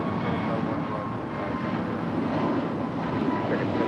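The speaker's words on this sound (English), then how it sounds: "Air France Flight 65 heading back to Paris, a 777-300ER." An Air France Boeing 777-300ER jet departing LAX roars with a loud, steady, broadband engine rumble, partly buffeted by wind, with a voice speaking over it.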